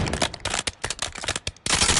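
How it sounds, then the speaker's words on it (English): Dual-wielded Jack Devastator shotguns firing in the Call of Duty MW3 video game firing range: rapid, loud overlapping gunshots in quick irregular bursts, close and dense, with no talk. "The Jack Devastator is a dual-wheeled shotgun."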